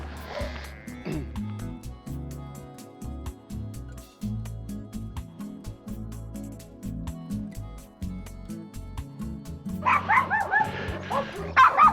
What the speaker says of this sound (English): A lot of big dogs at this house. Always make a racket when anybody passes.